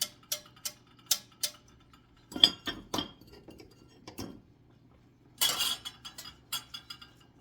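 A spoon clinks and scrapes in a pot as cheese is stirred into white sauce for baked macaroni and cheese, sharp separate taps, then a cluster of clatter and a louder scraping burst, quiet in between.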